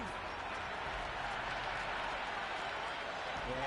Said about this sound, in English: all these spectators here today are completely enthralled and energised, judging by that noise anyway